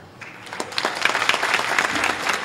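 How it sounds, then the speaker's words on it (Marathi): Audience at a kirtan in Alandi clapping, a dense burst of applause that builds within the first half second and stays loud and steady to the end. "टाळ्या नका वाजू"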